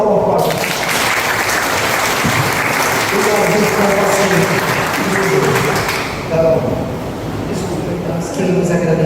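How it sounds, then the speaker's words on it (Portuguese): An audience at a Portuguese-language spiritist talk applauds with sustained, loud clapping for several seconds, and people talk and murmur underneath as it thins out. "Uma salva de palmas para o"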